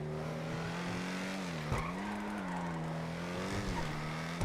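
An Emperor Vectre car in GTA 5 Online drives and corners, its steady engine drone holding a constant pitch with brief dips and a faint tire squeal, loud and continuous with no talk.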